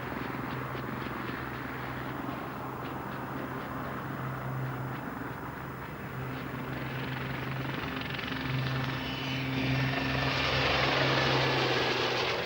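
A Westland Lynx military helicopter flies with a steady, loud rotor and engine drone, a thrumming whine that swells slightly toward the end.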